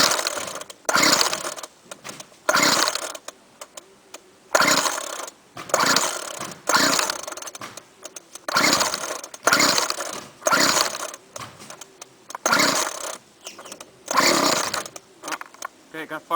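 A two-stroke string trimmer on choke after four primes takes a series of pull starts, about ten short sputtering bursts each dying away, close and loud, with brief gaps between pulls.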